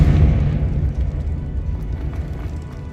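Confringo spell explosion in Hogwarts Legacy: a heavy, rumbling blast that starts loud and slowly fades over a few seconds, with crackling debris-like texture and no talk.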